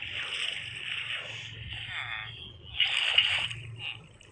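Water flowing and splashing in the Minecraft video game, a steady sloshing wash with a brief louder splash midway, heard in-game while a person talks over it.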